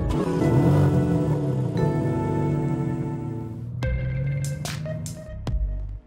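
A BMW M4 CSL driving off on cold ground with little tire grip, its engine droning loudly and steadily and then easing into a quieter idle with a few sharp knocks near the end.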